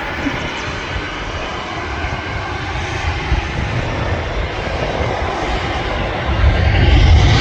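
A Jet2 passenger jet departs Manchester Airport, its engines a steady, loud broadband roar that swells toward the end with a deep rumble as the aircraft climbs away.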